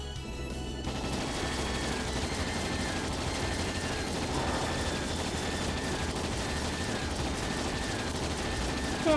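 Ships fire their guns together in Trails in the Sky SC, a dense, continuous barrage of rapid gunfire and booming blasts that stays loud and unbroken throughout.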